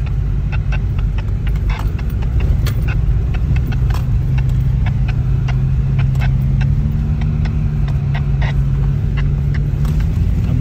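A car drives through snow at night with a steady, loud engine rumble and a low drone that rises slightly near the end, broken by scattered crunching ticks from the snow.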